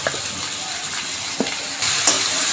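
Boiled soybeans frying in oil and ground spice paste, a continuous close hiss of sizzling with occasional scrapes from stirring, the sizzle jumping louder partway through.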